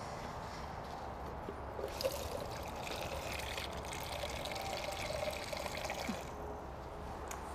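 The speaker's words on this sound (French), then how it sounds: "Je viens remplir mon réservoir à la moitié" Water pours steadily into an agricultural sprayer tank being filled halfway for a herbicide tank mix, a soft continuous trickling and splashing at low level with faint background hum and no talk.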